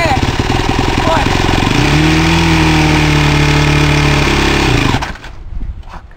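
Yamaha YFZ 450 ATV engine revving loud and close, a rough throbbing roar that rises in pitch and holds, then drops sharply away to a faint idle, with a person talking over it.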